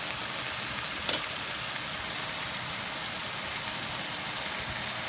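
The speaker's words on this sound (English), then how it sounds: "I'm going to cook the next steak" Steak with herbs frying in a hot pan gives off a steady, dense sizzle that continues without a break, fairly close and with no voices.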